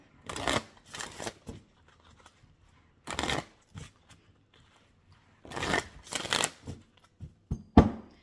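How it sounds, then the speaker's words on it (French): Oracle cards are shuffled for a card reading in several short, crisp bursts of riffling and flicking, separated by pauses, close and fairly quiet, with no talking. "Je vais tirer 5 cartes."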